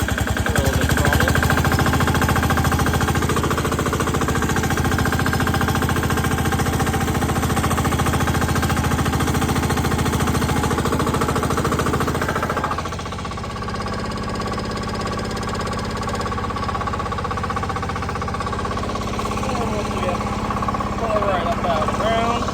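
A diesel Sears garden tractor plowing in second gear, its engine chugging in a loud, steady rapid knock that eases slightly partway through as the load changes, with someone talking over it at times.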